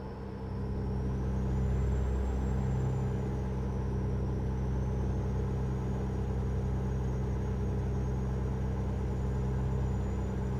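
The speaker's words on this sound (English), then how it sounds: "Trucks are going rather slow, probably going into the rest area." Trucks in American Truck Simulator driving on a highway: a steady, loud low engine rumble and road drone lasting throughout, with a faint high whine drifting above it and no speech.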